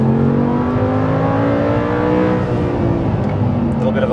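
A high-revving Audi R8 LMX V10 engine roars loudly and climbs in pitch as it accelerates, with voices talking over the steady engine noise.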